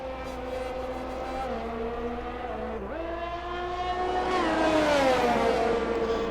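Formula 1 engines from Alfa Romeo and Mercedes cars in a racing game at a Brazil circuit, a high steady whine that drops with a gear shift, then rises in pitch and loudness as the cars accelerate.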